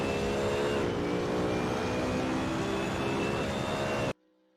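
A BMW Z4 race car engine at La Source in Assetto Corsa, a steady, sustained engine drone held for about four seconds at an even level before cutting off abruptly.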